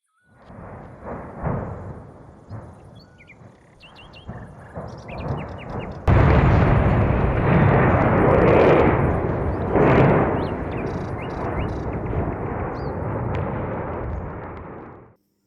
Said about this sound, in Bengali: ভয়াবহ বিস্ফোরণ ঘটে।